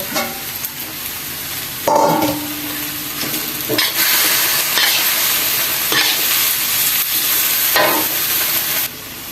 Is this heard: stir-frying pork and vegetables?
yes